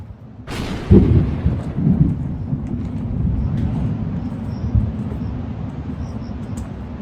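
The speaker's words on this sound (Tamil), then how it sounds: "இங்க என்ன இடி சத்தம் அப்பா" A sudden loud crack of thunder on a bamboo trek in Meghalaya, India, followed by a long, deep rumble that rolls on steadily and slowly fades, with no talking.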